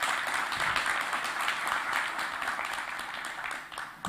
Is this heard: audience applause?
yes